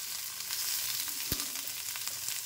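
Pieces of bottle gourd fry in a pan with steady, close sizzling and crackle, one sharp pop standing out partway through, no voices over it.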